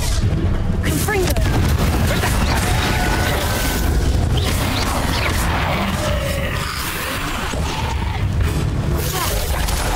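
Chaotic Hogwarts Legacy combat fills the scene with loud booming blasts and crashing impacts from the Confringo explosion spell, dense and continuous, with a voice speaking amid the din.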